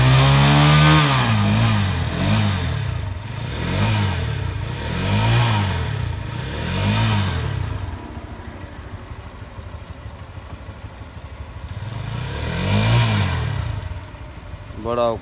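A car engine revs in repeated surges after a spark plug change, each burst rising and falling in a steady rhythm, with a quieter idle stretch midway before revving resumes; voices talk over it.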